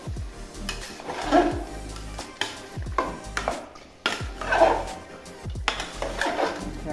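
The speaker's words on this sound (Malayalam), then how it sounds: "ഇനി നന്നായി ഒന്ന് ഇളക്കി കൊടുക്കട്ടെ നന്നായി ഇളക്കി ചേർത്ത് കൊടുക്കുക" A spoon stirs chicken curry with soft onion, tomato and masala in a pot, making repeated scraping and clinking strokes against the metal in an irregular rhythm with a faint sizzle underneath.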